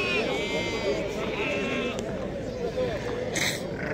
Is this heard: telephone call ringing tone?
no